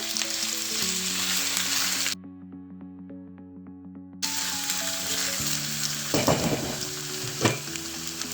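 Washed liver stews in a pan with a steady, close sizzle and a few scraping stirs near the end, broken by a short stretch where the sizzle drops out, with a faint tonal background.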